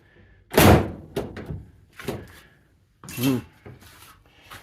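A door on adjusted hinges swings shut with a loud thud near the start, followed by lighter knocks and a second softer bump, all close by with no talk.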